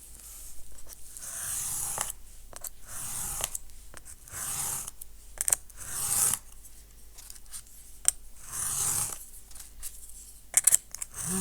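Scissors cut through thick watercolour paper in a series of repeated crisp snipping strokes with short pauses between, close and fairly quiet, with no talking.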